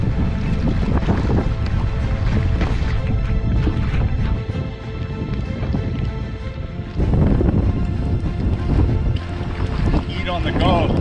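A strong headwind buffets a canoe being paddled across a northern Manitoba lake, with loud gusty roar and water splashing against the hull, surging and easing over several seconds.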